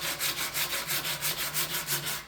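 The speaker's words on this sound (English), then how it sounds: "wet sanding because I don't want to get dust in the shop all over the bikes" Wet sandpaper is rubbed by hand over a part from a Honda ATC250R restoration, making steady back-and-forth scrubbing strokes at an even rhythm of about five per second, close and fairly loud, with no talking.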